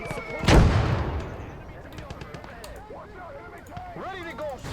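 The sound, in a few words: big tank gun firing in battle, Kelly's Heroes film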